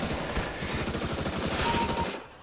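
Rapid automatic fire from an MP7 in Counter-Strike: Global Offensive gives a dense, continuous burst of closely spaced shots, loud and sharp, cutting off abruptly after about two seconds.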